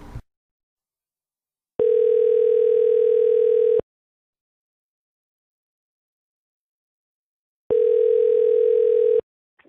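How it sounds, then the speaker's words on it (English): Two bursts of a steady telephone ringback tone during a call, one lasting about two seconds and a later shorter one, loud and clear with silence in between and no talking. "Answer the phone."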